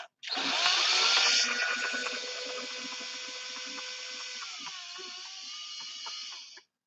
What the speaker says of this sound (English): this drill bit that I'm using is super old and super low power